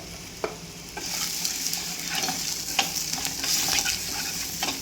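Eggplant mixture with a little salt sautéing in oil for a Tamil-style ennai kathirikai curry: a steady close sizzle broken by scraping, clicking strokes of a stirring spoon, with no talk.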